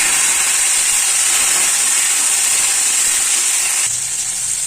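Tomatoes dropped into hot oil tempered with bay leaf, cinnamon, cumin and asafoetida give a loud, close, steady hissing sizzle that eases slightly toward the end.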